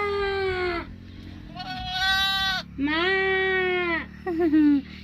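Goats and sheep on a farm bleat loudly and close by, four drawn-out cries in a row, the last one shorter and wavering.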